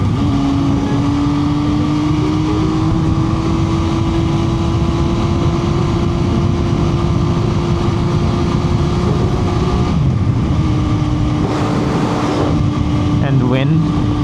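An MV Agusta Brutale 675 motorcycle engine runs at high RPM, a loud continuous buzzing drone that holds steady with slight pitch shifts, mixed with heavy wind noise throughout.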